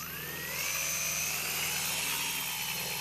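A lightweight quadcopter on a cheap 180-gram frame lifts off with a rising motor whine, then holds a steady, loud, high-pitched buzz of spinning propellers close by.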